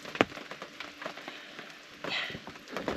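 Rain patters on leaves and ground in a wet forest at a campsite, a soft, steady hiss broken by scattered close drips and a few louder drops, with no talking.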